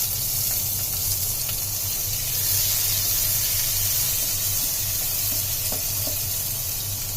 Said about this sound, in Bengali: রসুনগুলো ব্রাউন কালার হয়ে আসছে, এখন দিয়ে দিচ্ছি পেঁয়াজ।